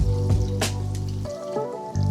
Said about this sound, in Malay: So kita masukkan air pula. 250 gram water.